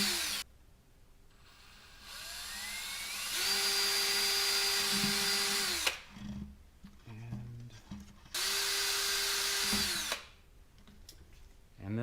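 Power drill boring vent holes through the wooden body tube of an SBR 5.5-inch L3 Fusion high power rocket, in two long whining bursts separated by quieter handling, close and fairly loud with no talk.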